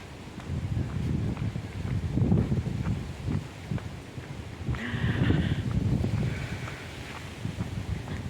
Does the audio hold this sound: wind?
yes